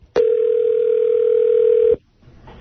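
A telephone dial tone sounds during a prank call to a U-Haul place. It is one loud, steady, unbroken tone lasting nearly two seconds, then cuts off into quiet line noise.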